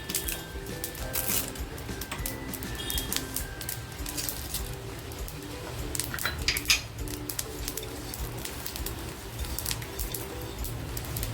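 Coconut, coriander seeds, poppy seeds, white sesame, chana dal and whole spices dry roasting in a pan for Kolhapuri rassa, with a steady clatter of a metal spoon stirring and scraping close by, no voices.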